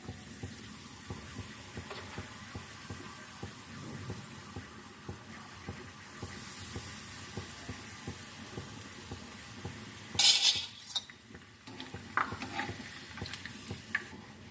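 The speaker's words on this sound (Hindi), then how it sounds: "ऑयल में हम बनाने के लिए पापड़ी को फ्राई कर लेते हैं।" Papdi fries in hot oil with a low, steady sizzle and faint bubbling, broken by a burst of louder crackling and spattering partway through and a few scattered scrapes near the end.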